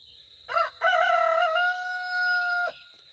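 A rooster crows once outdoors, a clear, loud drawn-out call with a short opening note, standing out over faint songbirds and a steady high background hiss.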